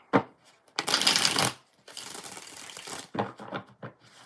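Tarot cards being shuffled in several bursts: a long riffle and a sustained run of slides, then short quick flicks and taps, close and crisp against a quiet background.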